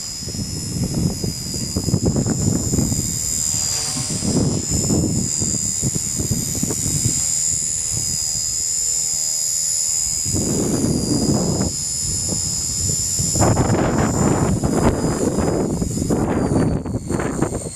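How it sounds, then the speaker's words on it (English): Strong gusting wind buffets the microphone around a Blade mCPx RC helicopter flying outdoors in high winds, loud, steady roaring with heavier gusts in bursts and no clear rotor whine rising above it. "Definitely feeling the wind."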